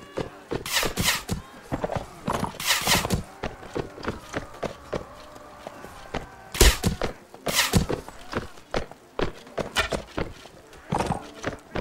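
Horse hooves clip-clop in Mount and Blade: Warband, an uneven series of sharp thudding steps in bursts across the scene, close and fairly loud with faint game ambience between.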